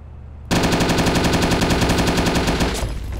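Rapid automatic gunfire in ARMA 2 on the Takistan map bursts in suddenly after a quiet moment, a loud, steady, fast rattle of shots that keeps going to the end, with no talking.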